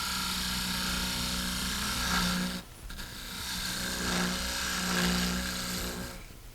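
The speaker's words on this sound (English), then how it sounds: "Now I'm using a 3/8 inch spindle gouge, and it's cutting much rougher than I would like" A 3/8 inch spindle gouge cuts a ball shape in spinning wood on a lathe, giving a steady, rough, rasping whir that breaks off briefly mid-cut and then resumes, with no talking.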